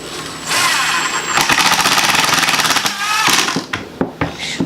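A power drill drives the last couple of screws into a cabinet: loud, close bursts of rapid buzzing and whirring, then a few short stop-start pulses at the end, with no talking.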